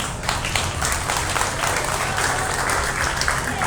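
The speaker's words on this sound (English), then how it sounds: "Give them a nice round of applause." Loud, sustained applause from a sizable audience at a beef cattle show fills the space, an even roar of many hands clapping without pause.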